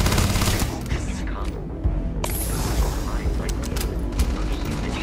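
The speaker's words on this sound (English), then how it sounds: "Let's get the shotgun out." A shotgun in Starfield fires amid a busy firefight, heavy booming blasts and rattling gunfire close and loud, with a sharp mechanical clack partway through.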